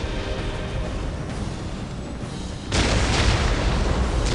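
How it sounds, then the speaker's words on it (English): Orc artillery fire in the Warhammer 40K: Dawn of War battle, a low rolling rumble that swells into a louder, heavier barrage of booms partway through. "We will silence that orc artillery."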